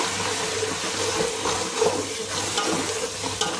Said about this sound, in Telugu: మసాలా బాగా వేగాలి.